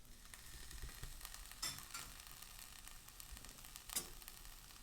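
Chickpeas drop into a hot pan alongside kale and sizzle quietly, with a soft continuous fry and a few sharp crackles and pops.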